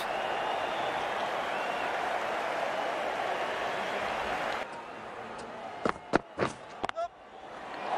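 An IPL cricket stadium crowd cheers and applauds a caught-and-bowled wicket, with dense distant roaring and clapping that gives way to a quieter murmur and a few sharp knocks, while a commentator talks over it.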